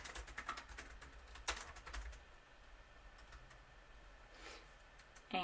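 Fast, light keystrokes on a computer keyboard while editing text in a coding notebook, a dense flurry of clicks at first that thins out into scattered taps and near silence, then a final louder click.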